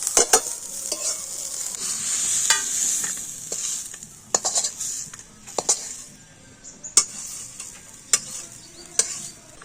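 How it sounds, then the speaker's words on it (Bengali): Onions sizzling and frying in a pan until lightly browned, a steady hiss broken by sharp clinks and scrapes of a utensil stirring, close up with no talking. "দেখুন পেঁয়াজটা একটু লাল করে ভেজে নিয়েছি"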